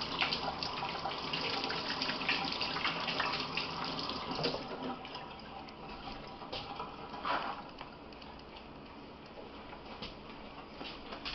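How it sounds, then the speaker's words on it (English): Hands washed under a running water tap during preparation of beef back ribs for a smoker, a steady broadband rush of flowing water that stays loud and continuous throughout with small splashy variations. "We'll actually wash my hands a little bit here."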